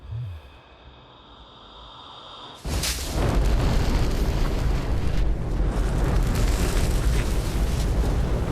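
Torpedoes detonate in a video game, with a sudden roaring blast that swells into a sustained, loud rumbling wash of explosion noise lasting several seconds after a quieter lead-in.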